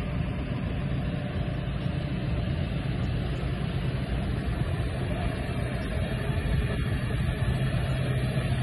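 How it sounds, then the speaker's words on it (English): Heavy lorry engines idle nearby in a steady, continuous low rumble while the lorries are loaded with machinery, with faint clanks in the background. "Lorries all being loaded."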